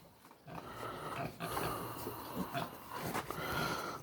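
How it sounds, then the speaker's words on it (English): Pigs on a farm at feeding time grunt and squeal in a busy, continuous jumble, with a few louder bursts and close, rough snorts over an outdoor background. "Look at all the little piggies. Think it's feeding time."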